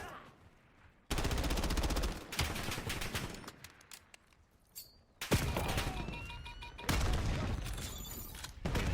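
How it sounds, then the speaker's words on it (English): Rapid SMG gunfire bursts in Black Ops 7 multiplayer, loud dense rattling volleys in several long stretches separated by quieter gaps, with game effects and faint tones in the mix. "I'm gonna use an SMG."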